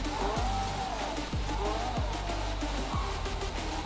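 A car driving in GTA V, a steady engine drone with repeated rising revs as the gears shift, close and constant, with some talk mixed in.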